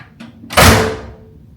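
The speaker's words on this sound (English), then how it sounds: "You can hear them, other doors closing in the hallway every time they close." A heavy hotel room door at the Hilton Cancun resort shuts in the hallway with one solid, loud thunk that rings out briefly, preceded by a faint click.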